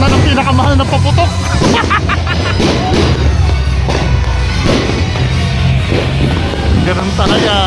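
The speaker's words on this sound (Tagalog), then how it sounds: "Yan na, nagpaputok na ng pinakamahal na paputok." New Year fireworks and firecrackers explode in rapid, irregular bangs and booms, some loud and near, others farther off, over a constant rumble while people talk underneath.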